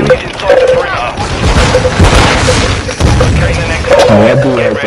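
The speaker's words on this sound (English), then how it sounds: "Grenade going in." Grenade blast in a game amid a rolling barrage of booming gunfire and explosions, loud and continuous, with voices talking over the combat.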